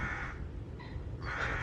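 A crow cawing from somewhere overhead in a garden, two harsh hoarse calls separated by a short pause, clear against steady outdoor background noise.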